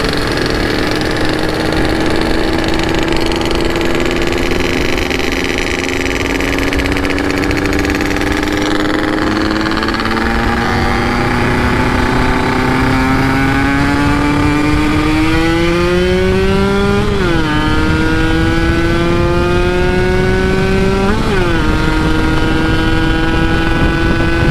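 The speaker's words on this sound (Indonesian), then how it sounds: "knalpot Mang Jul juga pakainya XT" A motorcycle engine with an aftermarket exhaust runs loudly for a long stretch, its raspy exhaust note climbing gradually in pitch with a couple of sharp revs late on.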